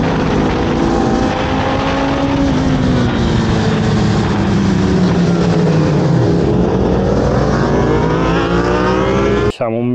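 Motorcycles ride around the Castelletto race track on a busy July Sunday, engines droning continuously and loudly, with the pitch rising and falling as bikes pass.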